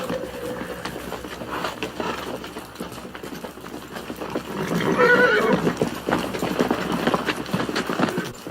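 Horses neigh and whinny while hooves clip-clop in a busy outdoor Western scene with vaqueros driving a herd. The sound is steady and fairly loud, a whinny stands out midway, and a low rumble sits underneath.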